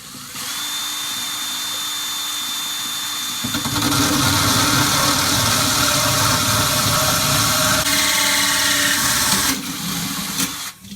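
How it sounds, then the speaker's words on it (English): A power drill whines steadily, then bites in with a louder, grinding roar as it bores a hole for a 1.25-inch vent grommet for several seconds before stopping. "I am going to then just drill straight down."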